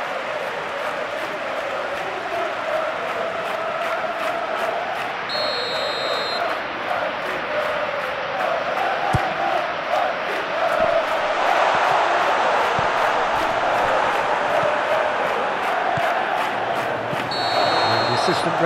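A virtual stadium crowd in the football video game eFootball PES 2021, during a Benfica vs Barcelona Champions League match, cheers and murmurs steadily in the background, rising a little toward the end, while a commentator talks over it.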